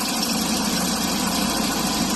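A Volvo 740 with a newly installed NPR intercooler runs steadily, a rough, tractor-like engine drone with faint rattling, close and continuous.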